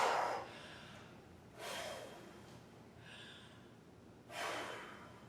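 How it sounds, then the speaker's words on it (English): Three slow, deep breaths are taken during recovery between rounds of a TRX workout. Each is a soft, airy inhale or exhale, faint and close, spaced with quiet pauses between them. "I'm gonna take a couple deep breaths."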